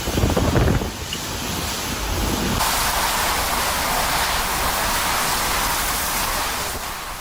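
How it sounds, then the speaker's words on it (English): Powerful storm surf from Hurricane Erin pounding the New Jersey shoreline, a loud continuous roar of breaking waves mixed with heavy wind buffeting the microphone, with no voices. "powerful waves are slamming into the shoreline, damaging piers and eroding protective dunes"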